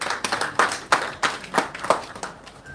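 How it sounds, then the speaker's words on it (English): A scattered round of applause, a handful of people clapping at an uneven pace, fairly close, tapering off after a few seconds. "Please a warm round of applause for him."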